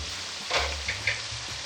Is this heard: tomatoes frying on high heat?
yes